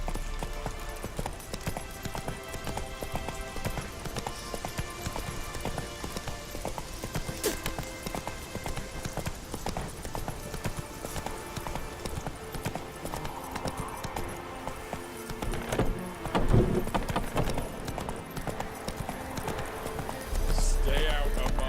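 The horse Roach gallops in The Witcher 3 video game, with a steady, busy clatter of hooves running throughout and game sounds layered over it.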